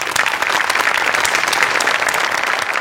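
A studio audience at a Marathi comedy show breaks into loud, continuous applause that holds steady for a few seconds with no voices over it.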